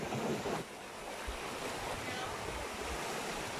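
Waves crash on nearby rocks, washing and surging under a steady windy hiss, a continuous faint roar of surf without distinct speech.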